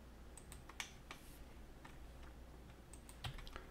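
Quiet, fairly close typing on a computer keyboard while working in CAD software, with scattered key clicks and a few sharper taps over a low background hum.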